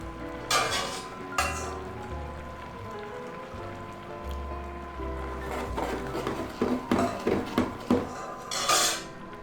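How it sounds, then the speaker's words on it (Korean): A spoon stirring shrimp rosé risotto in a pan, with soft scraping and clinks of metal against the pan. Several quicker taps land near the end, and there is no talk. "잘 섞어주세요."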